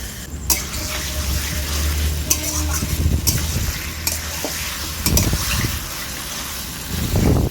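Marinated chicken hits a pan of softened onions, sizzling steadily while a spoon scrapes and stirs in irregular bursts, close and loud.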